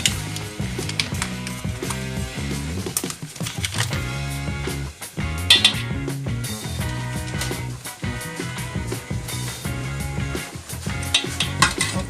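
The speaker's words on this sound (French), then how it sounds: "le chocolat et le beurre doivent fondre ensemble" Butter and chocolate melting together in a pan, with steady stirring scrapes and utensil clicks against the pan over a soft sizzle, continuous with brief pauses.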